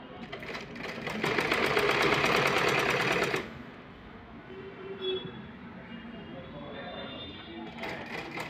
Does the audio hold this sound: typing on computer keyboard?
no